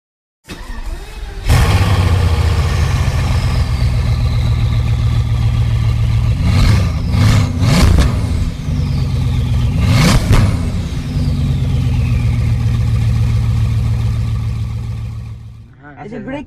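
Car engine during a driving lesson, humming steadily near the cabin, with a couple of revs rising and falling in the middle; people talk over it.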